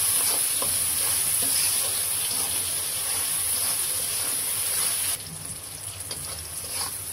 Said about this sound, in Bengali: পেঁয়াজ মরিচটা হালকা ভাজা হয়ে গেছে